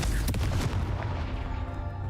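A Confringo blasting spell cast in Hogwarts Legacy sets off a booming impact: a deep, loud, close thump with a rumbling tail that fades over about two seconds.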